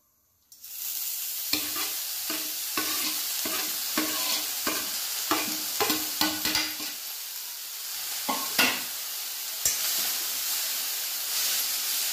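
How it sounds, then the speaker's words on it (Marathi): Fenugreek greens are stirred in a hot pan over a low flame: a regular run of scraping spatula strokes over a constant sizzling hiss, close and clear. "बारीक गॅसवर तिला हलवून घेऊ"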